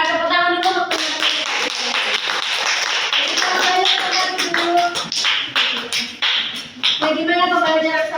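A Grade 10 high school class bursts into loud, sustained hand-clapping for several seconds, a dense roomful of applause that briefly thins, then swells again with some voices mixed in.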